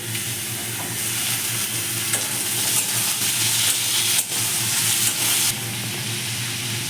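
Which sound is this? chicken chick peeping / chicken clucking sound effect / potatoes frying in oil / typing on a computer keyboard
potatoes frying in oil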